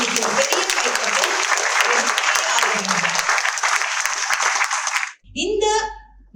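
Loud applause from an audience at a gathering in Jaffna about a student-built satellite, a dense burst of clapping that fills five seconds and cuts off abruptly, after which a voice starts speaking.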